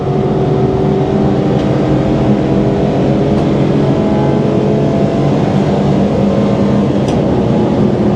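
In-car sound of a Citroen C1 race car accelerating on a circuit, a loud continuous engine drone with steady harmonic tones, heard close up without talk.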